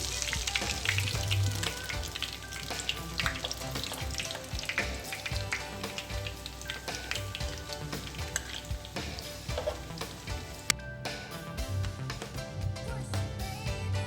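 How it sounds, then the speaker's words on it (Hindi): White chana kababs frying in hot oil, a dense, continuous crackling sizzle with busy spattering pops that holds steady for the whole stretch, close and fairly loud, with no talking. "और बाकी के भी मैं फ्राई कर लेती हूँ।"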